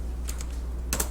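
A few quick, close taps on a computer keyboard, two light clicks followed by a firmer cluster near the end.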